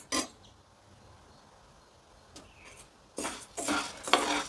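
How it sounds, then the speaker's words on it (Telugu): Jowar (sorghum) grains dry-roasted in a pan without oil, stirred in short scraping, rattling bursts against the metal, with quiet gaps between and a louder run of stirring near the end. "జొన్నలు వేయించుకుందాం. జొన్నలో నెయ్యి కానీ ఆయిల్ కానీ ఏమీ వేయొద్దండి."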